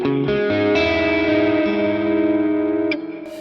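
An electric guitar played through a Boss Katana amp with a dull, darkened modulated reverb rings out in sustained chords that shimmer and wash, loud and close, then decay into a softer tail.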